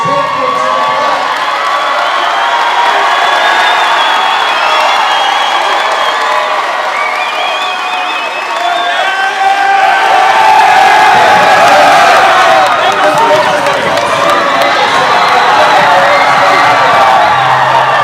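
High school boys basketball sectional final crowd cheering, whooping and clapping for a championship coach, a loud sustained roar with shouts that stays full for the whole stretch.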